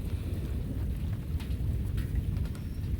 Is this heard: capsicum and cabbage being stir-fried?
no